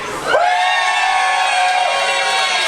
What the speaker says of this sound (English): But if you ever had the pleasure of meeting him, give me a cheer.